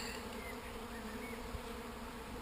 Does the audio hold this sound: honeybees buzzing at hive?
yes